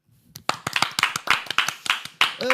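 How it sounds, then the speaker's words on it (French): A short burst of claps in a radio studio, several sharp strikes in quick uneven succession, close and fairly loud, ending as a voice begins. "Applaudissements"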